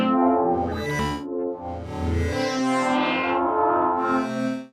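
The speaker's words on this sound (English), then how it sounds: "What you're hearing is a plugin traveling through different grains and samples based on the path I drew." Graphiti, an AI granular plugin, plays samples in real time along a drawn path, giving a continuous tonal, shifting texture of harmonic grains that swell and fade in several overlapping phrases, loud and without talk.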